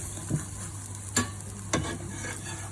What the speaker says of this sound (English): you will cook the roti for sort of maybe 30 to 40 seconds on each side